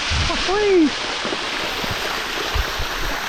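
Water runs steadily in a stream near a waterfall, giving a constant broad rushing wash that continues alone throughout after a brief voice at the start.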